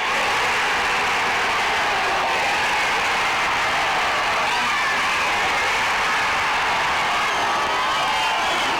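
A 6,000-strong crowd at an AFL grand final on a hot day roaring over a goal, a dense continuous wash of cheering and clapping that stays loud and even throughout.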